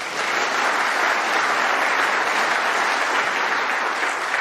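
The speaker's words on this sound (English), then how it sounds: "A deserved round of applause." Steady applause from a snooker audience rewarding a difficult pot during a Champion of Champions group match, a continuous even wash of clapping with no speech over it.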